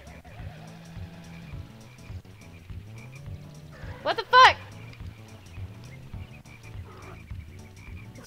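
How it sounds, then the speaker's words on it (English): Repeated cartoonish frog croaks in the Diddy Kong Racing video game, running as a looping low rhythm through the clip, with a louder burst of game effects midway and a voice speaking over it. "These frogs are annoying me."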